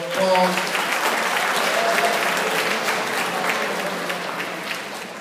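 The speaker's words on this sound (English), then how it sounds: "Mrs. Rakowski, give them a little applause." Audience applause at a school opening event, a steady crowd clapping that swells early and then tapers slowly over about five seconds, with no talk over it.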